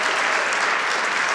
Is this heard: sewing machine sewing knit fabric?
no